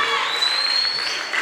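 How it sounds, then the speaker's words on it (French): An audience at a talk gives a brief burst of clapping, a dense, steady patter of hands heard from within the room that fades slightly toward the end. "Applaudissez pour vous-même."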